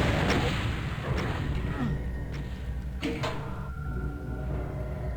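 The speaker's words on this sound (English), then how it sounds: "so I can concentrate on rocket launcher action" Rocket launcher fire in a first-person shooter map, a run of sharp booming blasts and thuds over a constant roar of game noise and music, with no voices.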